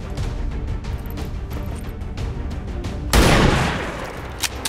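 Burst of gunfire from the XCOM 2 video game, a loud sudden volley cutting in after a stretch of lower rumbling game noise, then trailing off with a few sharper shots.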